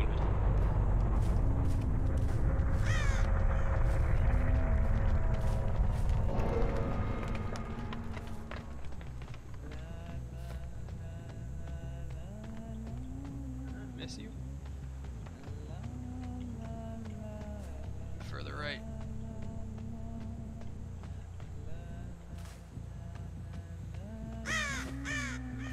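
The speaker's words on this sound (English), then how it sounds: "Those crows weren't alerted, so I don't think she's behind this rock." Crows caw repeatedly in the video game Dead by Daylight, harsh calls scattered across a low rumbling ambience that is louder at first, some caws near and others more distant.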